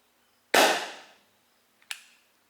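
A Gamo P-23 CO2 pellet pistol fires a 7-grain RWS Hobby pellet, giving one loud, sharp crack with a short decaying tail, followed about a second later by a second, quieter snap.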